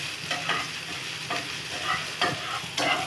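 Ginger frying in hot oil for pav bhaji, a steady close sizzle broken by the scrape of a spoon stirring the pan every second or so.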